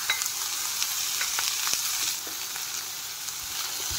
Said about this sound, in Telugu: ఇలా అంతా ఫ్రై చేసుకోవాలి. ఇంకా కాస్త వేగనిద్దాం. ఇలా ఆనియన్ అయితే ఫ్రై అవుతుంది కదా,